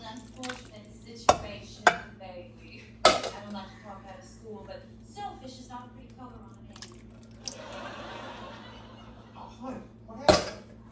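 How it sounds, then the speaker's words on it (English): Spoon working through a heavy pot of homemade chili, with scattered knocks and scrapes against the pot, a louder clack near the start and another near the end, plus thick squishy stirring over a steady kitchen hum and some speech. "this is gonna be really hard to stir. It's already heavy"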